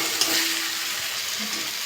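Spiced gravy for a jackfruit and prawn curry sautéing in oil, a steady broadband sizzle with faint stirring scrapes throughout, close and alone with no talking.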